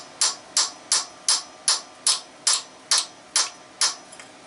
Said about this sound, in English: Give a few taps in that area.